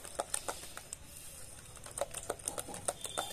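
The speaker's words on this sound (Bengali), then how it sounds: "বেসনটাকে ভালো করে ফাটতে হবে হাত দিয়ে দিয়ে" Gram flour batter for bonde beaten by hand in a bowl, a quick run of faint, close, irregular slapping taps with no talk.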